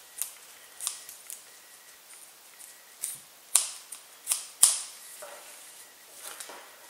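Close, sharp snips of scissors cutting through strap material for a DIY survival chainsaw. A series of separate cuts with small handling noises between them and no talking.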